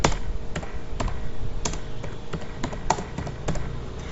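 Keys clatter on a computer keyboard in irregular bursts of close, crisp taps, with a few louder keystrokes standing out and no talking.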